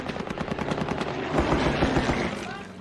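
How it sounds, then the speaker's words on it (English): Rapid bursts of machine gun fire from a World War II era A-1 attack aircraft strafing at low altitude over the Lang Vei special forces camp, loud close rattling volleys that blur into dense gunfire with a deep rumble underneath. "The World War II era planes flew low and slow, allowing for more precise targeting of ordnance and machine gun fire."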